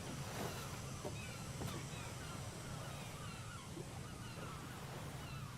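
Birdsong in The Wickie horror game: scattered chirps and calls drift over a steady, low wash like distant surf or wind, constant and moderately quiet throughout.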